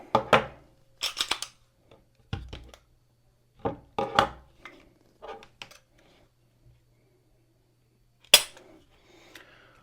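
A trigger pull gauge dry-fires a Stoeger STR-9 9mm pistol, producing a run of sharp, close mechanical clicks and clacks, then a louder snap near the end, with no talk.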